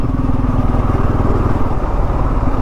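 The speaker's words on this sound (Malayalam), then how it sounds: "ഇതിൻ്റെ എക്സോസ് നോട്ട് കേൾക്കാനൊക്കെ ഒരു രസമുണ്ട് കേട്ടോ, ഭയങ്കര രസമായിട്ടുള്ളൊരു എക്സോസ് നോട്ടാണ്" Bajaj Pulsar N250 motorcycle exhaust note while riding in fourth gear at around 28 to 30 km/h, a loud, steady, close-up throbbing drone with rapid even pulses and constant wind noise, no voices.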